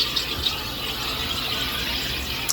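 A SodaStream carbonator injecting gas into a bottle of water, giving a steady, loud hissing squeal that holds without a break for a couple of seconds, close by and with no voices over it.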